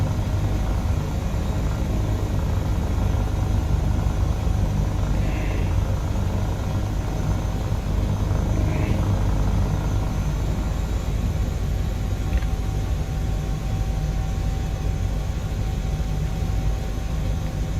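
An Airbus H160 helicopter in Microsoft Flight Simulator 2020 gives a steady, dense rotor and turbine roar that stays level and unbroken throughout, with no talk over it.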